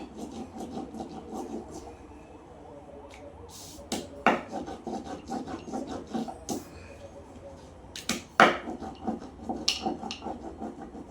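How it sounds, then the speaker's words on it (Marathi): Urad dal papad dough, flavoured with cumin and ajwain, rolled out with a rolling pin: a steady close rasping rub with rhythmic strokes and a few sharper knocks, no talking. "मी पापड लाटून घेते"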